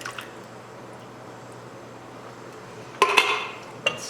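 A spoon stirring Italian meat ragu in a pot, a faint soft squelching background broken by a few sharp metallic scrapes and clinks near the end.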